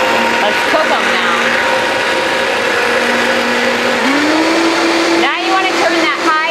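A Vitamix blender whirring loudly and steadily as it mixes ingredients at a slow setting, its motor pitch rising partway through, then wavering near the end.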